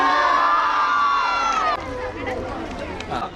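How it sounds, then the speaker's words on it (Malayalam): Madrassa children clapping and cheering together, a loud crowd of young voices shouting and whooping with applause; an adult voice speaks over the noise as it breaks off partway and continues more raggedly. "എല്ലാവരും കൈയടിച്ചോളെ."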